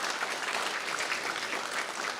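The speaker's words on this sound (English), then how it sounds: "give yourself a round of applause right now" Steady applause fills the room from an audience at a college signing ceremony, a continuous even patter of many hands throughout.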